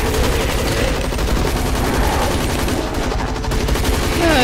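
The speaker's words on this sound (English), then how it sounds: "You hear the turrets going, Spider?" Rapid automatic turret gunfire in a zombie and robot PvE video game, a dense continuous rattle of shots running close and loud throughout.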